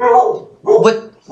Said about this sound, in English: Had to go see what the dog was barking at